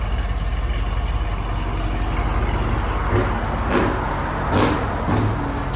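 A 2004 Mercedes E55 AMG fitted with headers and an X-pipe idles with a low, steady rumble from a cold start, with a few faint knocks and shuffles heard close by.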